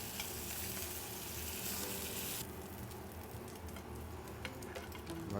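Pieces of young rabbit sizzle and fry steadily in a pan, a continuous close crackle that dulls slightly halfway through as the pieces are moved, with occasional small clinks.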